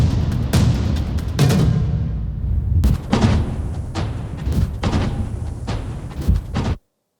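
Live recording run through a compressor, Decapitator saturation, EchoBoy delays and a sound shifter, forming a dense, loud, distorted wash. Heavy booming hits punctuate it before it stops abruptly.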